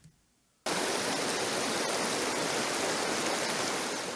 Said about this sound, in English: just having these little rapids where it's not quite whitewater, but just kind of like undulations